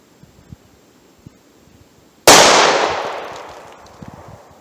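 A single loud 9mm pistol shot is fired at 3A body armor from 7 yards, a sharp crack with a long decaying ring, preceded by faint handling taps.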